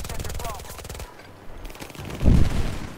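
Rapid automatic fire from a Vector submachine gun in a first-person shooter, a dense burst of shots in the first second, then a short pause, then another close, loud burst.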